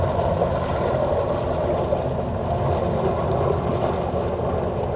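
Jet ski engine idling and throttling slowly in and out of gear in a no wake area on open water, a steady low rumble with wind and water wash, constant and moderately loud without pauses.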